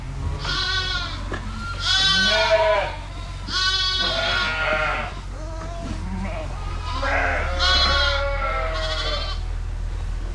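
Sheep and lambs bleat in a pen at lambing time, several loud wavering calls overlapping one after another at close range with no talking.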